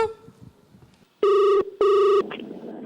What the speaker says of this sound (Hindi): और उसी हंसी को आगे बढ़ाने आ रहे हैं प्रिंस अपना लाइव फोन कॉल लेकर।